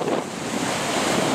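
Sea waves washing in at Xlendi Bay on Gozo, Malta: a brief, continuous rush of surf heavily blended with gusty wind buffeting the microphone, loud and close, with no speech.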